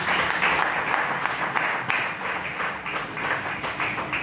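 A church congregation applauds in a dense, continuous patter of clapping, fairly faint and even, with no one speaking over it.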